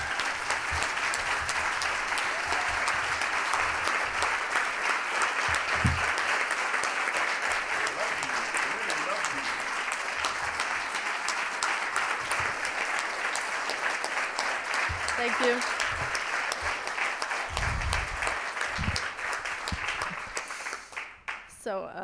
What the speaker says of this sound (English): So can we have a big round of applause for Cloé?